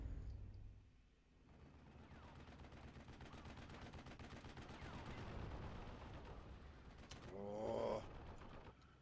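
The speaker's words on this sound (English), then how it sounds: "Tank gun." Tank gun fire during a WWII battle in the strategy game Steel Division 44, heard amid continuous crackling gunfire and low rumble, with a sharp louder burst toward the end.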